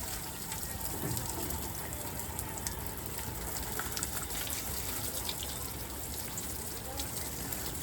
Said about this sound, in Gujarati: પાણી નાખી રહ્યો છું અત્યારે